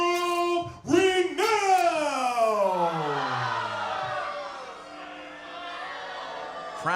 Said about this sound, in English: crowd letting World Renown know that you can try to change your evil ways, but they don't really care